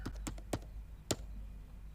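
Several quiet taps on a computer keyboard, three quick keystrokes in a row, then a pause and one more, heard alone against a low hum.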